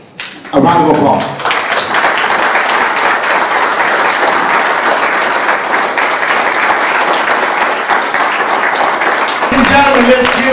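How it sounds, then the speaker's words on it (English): A crowd bursts into sustained applause and clapping at a USMC gunnery sergeant's retirement ceremony, loud and steady for about nine seconds, with a brief announcer's voice at the start and again near the end. "A round of applause."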